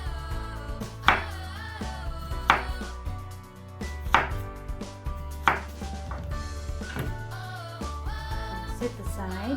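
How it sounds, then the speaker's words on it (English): A knife chops a cucumber on a board in steady, regular strikes about every second and a half, close and clear, with faint music underneath. "So first I'm gonna chop a cucumber"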